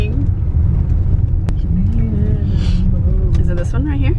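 A car climbs a steep uphill road, its engine rumbling steadily and loudly underneath while people talk over it throughout.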